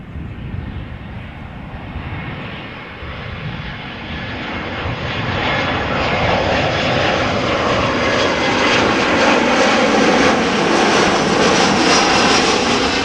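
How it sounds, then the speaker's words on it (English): A Lufthansa Airbus A320 jet arriving from Munich at Amsterdam Schiphol, its engine roar loud and steady, swelling slightly as it passes close by with no voices. "We have an A320 from Lufthansa arriving from Munich."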